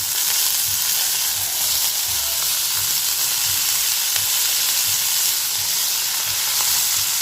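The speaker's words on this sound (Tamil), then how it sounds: "நல்லா வதங்கிக்கிட்டு இருக்குது." Green beans sizzle and sauté steadily in a hot pan, a constant crackling hiss with occasional stirring, close and fairly loud.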